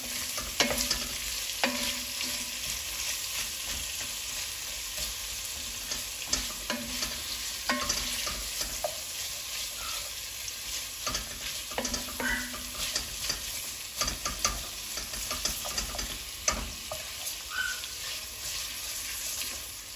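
Onions sweat down in a pan for braised steak and onions, giving a soft, steady sizzle with frequent spatula scrapes and clinks, close by and without talk.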